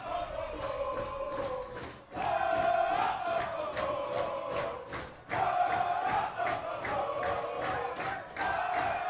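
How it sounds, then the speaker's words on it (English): A crowd at a women's soccer game cheers and chants in loud rhythmic waves, with sharp repeated claps or drumbeats punctuating the roar. "you love to hear the crowd getting hype"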